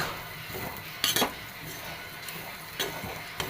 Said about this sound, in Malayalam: നിങ്ങളത് ഇളക്കിക്കൊണ്ടേയിരിക്കണം മുളകപ്പോൾ തെറിച്ച് പോകണം ഇളക്കുമ്പോൾ